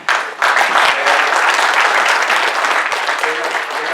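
A conference audience at the MACS 2020 event breaks into applause, a loud, dense wash of many hands clapping that fades slightly toward the end.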